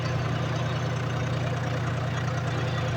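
A tractor's heavy diesel engine idles nearby with a constant low, throbbing drone and no change in pace or volume throughout.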